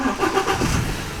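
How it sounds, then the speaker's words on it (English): A BMW 3 Series E90's engine is started with the starter button, giving a brief churning crank that catches into a low engine rumble, heard close and short. "it's key in the dash, and then it's a starter button"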